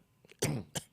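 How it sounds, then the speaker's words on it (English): A person coughs twice up close, a harsh throat-clearing burst followed by a shorter second cough, against quiet background. "So I'm coughing like this."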